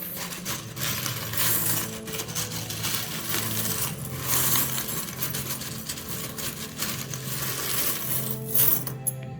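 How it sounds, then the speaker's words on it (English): Small metal charms jingle and clink as they are shaken and drawn from a charm box, a busy close-up rattle of repeated light clinks with no one speaking. "I will be drawing some charms for you guys"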